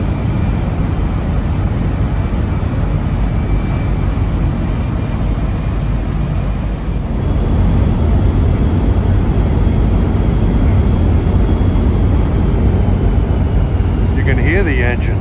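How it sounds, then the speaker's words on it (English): A loud, steady turbocharged General Motors diesel engine on a ferry drones throughout with a deep rumble, swelling slightly louder halfway through as it works hard backing up, with a faint whine on top. "you can hear that General Motors unit working on this ferry. It's a turbocharged engine."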